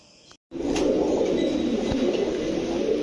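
A flock of pigeons at a pigeon farm keeps up a thick, continuous murmur of cooing, loud and close, starting right after a brief gap at the beginning.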